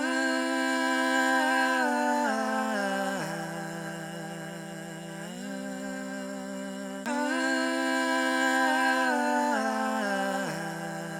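Double-tracked sung vocal pad: a simple wordless melody sung twice and layered, sustained harmonic tones shifting in steps, with a repeated phrase and an audible edit where the take restarts, fairly loud and alone.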